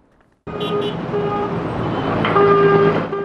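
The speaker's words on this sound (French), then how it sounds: "Coups de klaxon violents" Car horns blare in road traffic, a loud sustained honk kicking in abruptly after a quiet moment, joined by further overlapping toots over a steady engine and roadway rumble.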